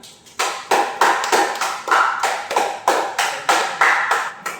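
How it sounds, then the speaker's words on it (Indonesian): Students clap after a thesis presentation for a physical education research methods course, about a dozen firm, evenly spaced claps, close and loud, with no talk over them. "Tepuk tangan untuk teman kita."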